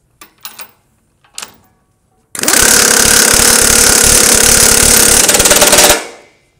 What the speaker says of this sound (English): Let's show you the old way of how we tighten a bolt. We got the old school air impact.